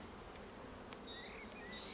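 Honey bees buzz around an open beehive while frames are checked in late April, a steady low drone with high, sweeping tones from bees flying close by, and no voices.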